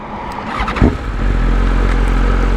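A 2024 BMW M1000 XR sport motorcycle engine, shared with the S1000, turns over and catches, then settles into a steady, loud idle rumble up close.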